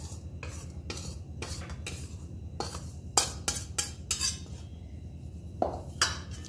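Hot sesame laddu mixture stirred in a pan with a spatula, producing a series of crisp, distinct scraping and clinking strokes at an irregular rhythm, close and fairly quiet, over a low background hum.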